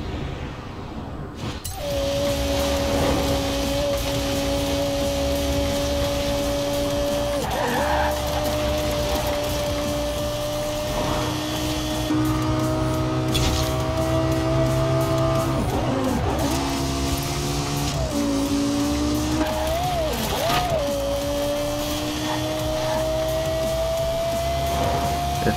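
In Forza Horizon 4, a Lexus LFA engine holds a steady, high-pitched whine, then rises and dips as it revs through gear changes. It runs loud and continuous for about twenty-five seconds with no voices.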